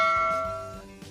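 A single bright bell ding for a subscribe reminder rings out clearly and decays smoothly over about a second, alone with no talking.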